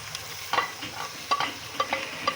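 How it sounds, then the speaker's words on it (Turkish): Tripe and onions sizzle in a hot pan while being stir-fried, with soft scraping taps at irregular intervals, close by and without speech. "Biraz kavuracağız."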